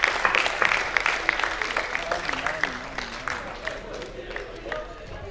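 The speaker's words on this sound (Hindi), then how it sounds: "जितने हैं जोरदार तालियां बजाएं।" An audience at a Hindi comedy poetry gathering claps for guests being honoured, a burst of sharp, close claps that thins and fades over several seconds, with someone speaking over it.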